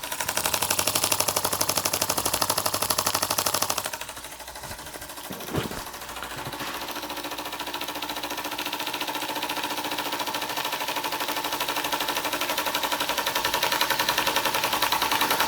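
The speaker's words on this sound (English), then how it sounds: "What a lovely little engine." A Microcosm M81 micro beam model steam engine runs with a rapid, steady mechanical clatter, loud and hissy at first, then settling into a quieter, even ticking rhythm, with no speech.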